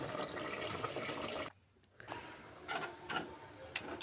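Water is poured into a pot of goat tripe curry, a steady liquid rush for about a second and a half that stops abruptly, followed by quieter kitchen clinks and rustles.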